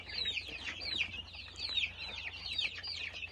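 One-month-old Kuchinsky Jubilee chicks cheep without pause, a dense flock of high, repeated peeps close by with no talk over them.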